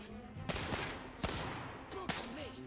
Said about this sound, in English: Looks like we're going right into another gun battle.